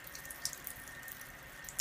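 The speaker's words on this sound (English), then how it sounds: "the water stops running." Water runs in a faint, steady stream from the faucet of a KYK 66000 under-sink alkaline water ionizer, with a few soft splashes and drips.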